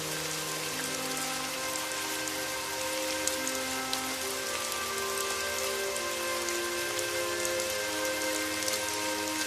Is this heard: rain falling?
yes